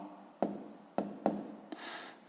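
Pen strokes scratch on paper in four short, distinct bursts while numbers are written down for a sixth-grade math exercise, quiet and close with no voices.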